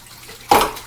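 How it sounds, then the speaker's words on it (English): Water splashes and runs suddenly as yarn is lowered into it for washing, a short close burst after a quiet moment. "let's get that in the water"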